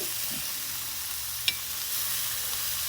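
Chicken quarters sizzle on an open Weber kettle grill, a steady close hiss of frying fat that holds throughout, with one brief sharp tick partway through.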